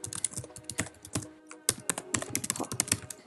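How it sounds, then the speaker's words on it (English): Rapid typing on a computer keyboard to enter a login ID for an AutoCAD for Mac install, close crisp key clicks in quick uneven bursts with one brief pause. "I'll type in my Autodesk ID."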